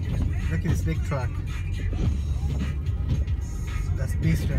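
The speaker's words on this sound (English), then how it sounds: "Look at this big truck." A big truck rolls past during a heavy, wet snowstorm in East Hampton, New York, making a continuous rumbling roar mixed with wind noise while someone talks over it.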